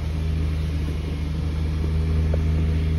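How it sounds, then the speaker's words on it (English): A 2018 Nissan Frontier engine runs at a steady, even idle with a constant low rumble and hum, close and loud throughout. "I'm gonna turn on my 2018 Nissan Frontier"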